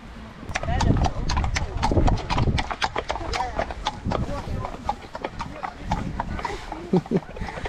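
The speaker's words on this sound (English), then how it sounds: "The horse." Horse hooves clip-clop nearby on a hiking route toward Darwen Tower, a steady, loud, uneven clatter that runs throughout, with a voice talking over it.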